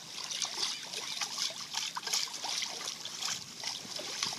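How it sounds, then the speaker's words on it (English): Water sloshing and trickling as waves are stirred up with a ball around a small pillar boat model at Kayak Point, a continuous close, moderately loud splashing and dribbling. "So I'm going to create some more waves with this ball"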